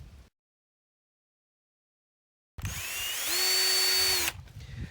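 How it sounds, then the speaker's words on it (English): Power drill fitted with a 1/8 inch bit boring through a plastic bucket, a loud close whine that rises in pitch and holds steady for about two seconds after a long stretch of silence, then stops. "So there's kind of simple 1/8 inch drill bit."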